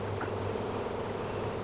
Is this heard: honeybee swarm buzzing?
yes